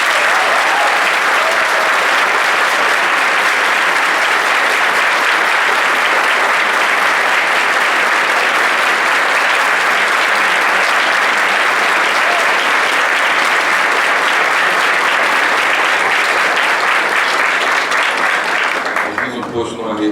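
Applause at a political debate, in honor of a man named Pinhão: a long, steady wash of crowd clapping that holds loud and even for twenty seconds before tapering at the very end.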